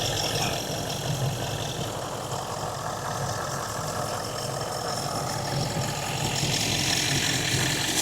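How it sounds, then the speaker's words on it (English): A Range Rover L405 V8 sits at a steady idle, a close, even low rumble with a smooth hum that holds constant throughout, no voices over it. "Got a really nice sound to it, this V8."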